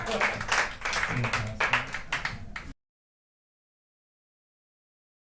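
A crowd claps and cheers for a couple of seconds, dense and fairly loud, then cuts off abruptly into silence.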